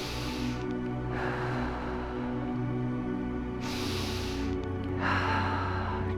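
Slow, deep breathing during a grief and loss yoga session, with two long airy breaths audible as soft rushing inhales and exhales over a quiet steady background hum, no talking.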